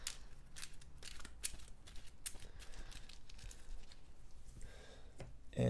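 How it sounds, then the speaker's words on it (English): Board game action cards are shuffled at a table, giving quiet, close, rapid papery flicks and riffles that run steadily with short pauses and no talk. "let's give these a quick shuffle."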